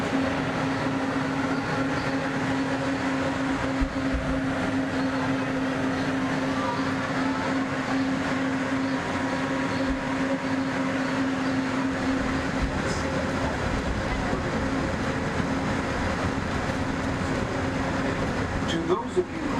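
Disneyland Monorail from the Xbox One X game Disneyland Adventures, a steady rumbling ride noise with a continuous hum and a faint tone, running unbroken throughout beneath occasional voice.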